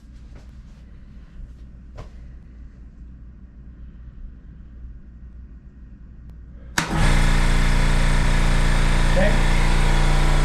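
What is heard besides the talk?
air compressor running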